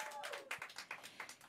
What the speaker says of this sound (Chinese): 好零碎嘅掌声啊